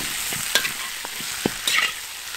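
Yak hooves with seasonings stir-fried in a wok: a steady close sizzle with several sharp scrapes and clanks from the stirring utensil against the pan, and no voices.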